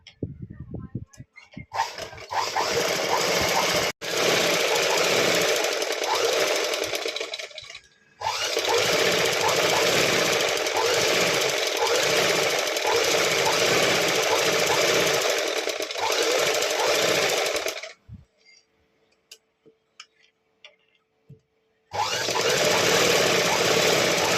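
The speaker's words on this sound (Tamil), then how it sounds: "லைனிங்க்கு மேலே ஒரு ஸ்டிச் போட்டுருவோம்" Sewing machine stitching the lining of a lehenga top, running in long loud bursts of rapid, steady mechanical whirring, stopping briefly between runs with quieter handling noises in the pauses, close up.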